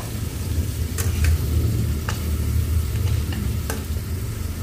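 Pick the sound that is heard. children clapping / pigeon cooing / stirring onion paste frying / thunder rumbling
stirring onion paste frying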